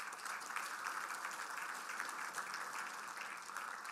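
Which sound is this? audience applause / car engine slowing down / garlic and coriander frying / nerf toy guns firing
audience applause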